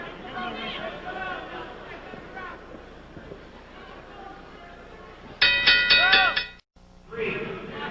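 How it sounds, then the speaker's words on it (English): A boxing ring bell clangs for round 3 of a heavyweight United States Boxing Championship Series bout between Johnny Boudreaux and Scott LeDoux: a loud burst of rapid metallic rings that cuts into ongoing commentary and crowd noise. "The bell for round 3"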